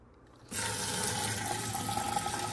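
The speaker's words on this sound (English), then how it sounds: "you get that immediate burst of pressurized water" After a brief quiet moment, a Frizzlife PX500 reverse osmosis filter faucet opens and pressurized water gushes out in a strong, steady hissing stream close by.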